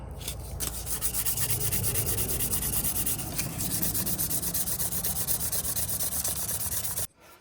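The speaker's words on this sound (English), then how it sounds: "I can't sand on it real good with these buttons in the way" A 1940s Hammer Brand Jack-O-Matic pocket knife is sanded by hand in a steady, continuous gritty rubbing that holds loud and close for about seven seconds, then stops abruptly.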